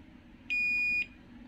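A multimeter's continuity beep sounds while its probes test points on a Toshiba 32-inch LED TV board against ground: one steady, clear half-second tone that starts and stops abruptly over a quiet room.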